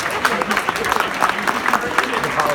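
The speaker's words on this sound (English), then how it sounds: "a huge round of applause for another successful season" Banquet audience at a swim team's end-of-season dinner clapping steadily, a dense rattle of many hands from the room over a busy background.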